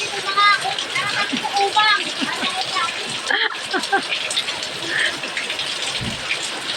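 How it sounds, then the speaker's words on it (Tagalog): Heavy, unceasing rain pattering and splashing steadily on surfaces, with children's and adults' voices chattering over it nearby. "Walang tigil ang ulan"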